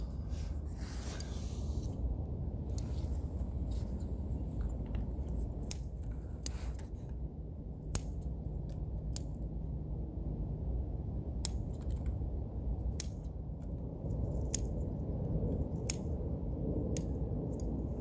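Scissors snip needles from a century-old Japanese black pine bonsai, producing a long series of crisp, close cuts at irregular intervals over a quiet, steady background hum.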